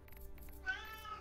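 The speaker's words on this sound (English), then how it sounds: "We can hear him meow." A cat meows once, a faint rising, drawn-out call that follows a few soft ticks over quiet background hum.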